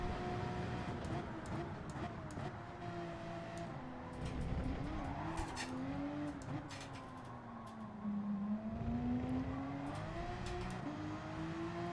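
Porsche race car in Gran Turismo 7 driving continuously with a steady, shifting engine drone, brief tire squeal and throttle swells, loud and close without pause.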